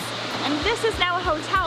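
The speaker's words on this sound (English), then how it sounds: "you can hear the lovely sound of the rushing water, which is still going by here" Steady broadband rush of river water flowing past an old Teutonic Knights mill beside a medieval castle in Toruń, Poland, a constant wash heard under a voice talking close by.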